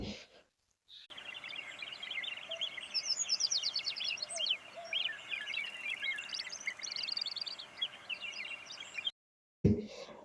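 Many birds call and chirp together at a village bird sanctuary visited by pelicans and painted storks, a dense, steady chorus of overlapping tweets filling the scene at moderate distance, with brief quiet gaps at the start and end.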